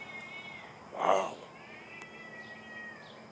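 A single cat meows once, fairly close and clear, against a quiet morning background with a faint steady hum.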